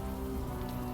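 Steady rain falls in the video game Unavowed, a dense, even hiss of drops on a hard surface that stays close and constant for the whole second with no voices.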